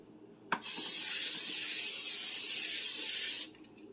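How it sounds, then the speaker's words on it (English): A single continuous hissing spray from an aerosol can of butter cooking spray, close and loud, lasting about three seconds after a sharp click. "And spray them with butter spray."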